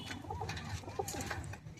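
Teddy pigeons coo softly in a few low, brief murmurs, faint against a quiet background rumble.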